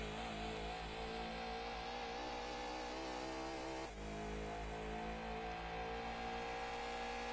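A race car engine in the PlayStation game Gran Turismo 2 on Midfield Raceway, a continuous high revving drone with one brief gear-change dip midway, steady and loud with no talk.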